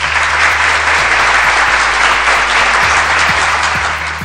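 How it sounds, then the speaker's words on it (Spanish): Steady, dense applause in a comedic Spanish podcast's opening, loud and continuous throughout without a break, with no voices over it. "Y encima me aplaudo a mí misma"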